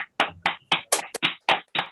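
Eight sharp hand claps ring out in quick succession, close and loud, a short celebratory burst of applause with brief gaps between each clap.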